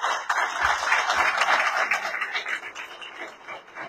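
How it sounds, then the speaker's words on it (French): Audience applause at a formal meeting with the Port of Barcelona, a dense, sustained clapping from a large crowd that holds steady for several seconds with a slight fade near the end. "Je voudrais qu'on vous remercie avec beaucoup d'applaudissements."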